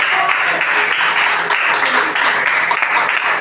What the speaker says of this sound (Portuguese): Pode se assentar louvando, engrandecido a Deus com as palmas